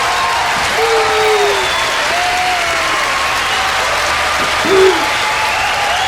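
A theatre audience applauds at the close of Dylan Moran's live stand-up show, a loud, steady roar of clapping with occasional whoops and hoots rising over it.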